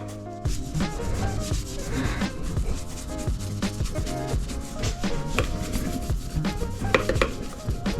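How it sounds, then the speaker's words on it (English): A soft sizing brush sweeps excess silver leaf off a surface in continuous close rubbing, scratchy strokes, steady and fairly loud throughout. "we come in with a sizing brush. You can use a real soft makeup brush too. And we just come in and we just remove all that extra."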